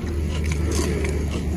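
Crunchy bites into a crispy fried bakwan fritter made with Indomie instant noodles, a few close, loud crackling crunches in quick succession with no talking.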